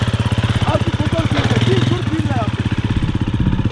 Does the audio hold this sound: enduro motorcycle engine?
yes